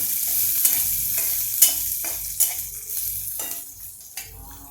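Peanuts stirred in oil in a pan for dadpe poha, with a steady sizzle and a handful of spoon scrapes against the pan at irregular intervals, close and clear.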